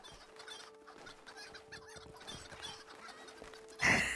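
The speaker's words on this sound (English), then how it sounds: "We got our chickens." Small flock of backyard chickens clucking softly and murmuring close by, scattered short calls over a quiet background, ending in a sudden louder rustle or flutter.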